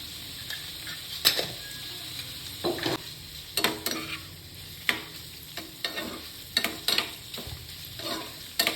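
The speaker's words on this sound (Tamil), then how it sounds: "பன்னீரை இந்த அளவுக்கு ஃப்ரை பண்ணாலே போதும்" Paneer frying in a pan for restaurant-style paneer butter masala, a light sizzle broken by repeated scraping and tapping of a spatula at an uneven rhythm.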